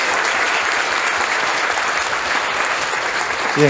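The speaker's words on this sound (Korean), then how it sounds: "우리 박수로 응원하겠습니다" A Sunday-service congregation at an Edmonton church applauds after an infant baptism, producing a steady, even wash of many hands clapping at moderate loudness throughout, with no talk.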